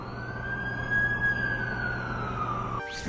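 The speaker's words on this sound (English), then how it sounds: "That's the ambulance I called." An ambulance siren in The Amazing Spider-Man 2 video game, one long rising and falling wail held loud and steady, then cut off abruptly near the end, no talk over it.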